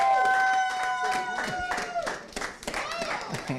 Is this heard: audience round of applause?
yes